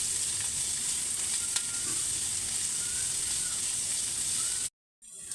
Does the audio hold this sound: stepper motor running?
no